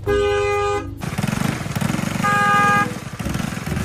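A loud car horn blares steadily for about a second at a rickshaw, then after a pause a second sustained honk sounds over a rumbling engine.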